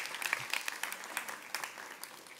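A congregation applauds during a sermon in a church, scattered clapping heard at a moderate distance and fairly quiet.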